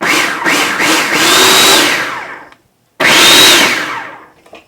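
A blender pulses a plant-based mixture sweetened with maple syrup in two loud bursts, the first longer with several quick pulses before it cuts out and the second whirring on after a short silence.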